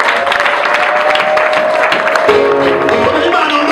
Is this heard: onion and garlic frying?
no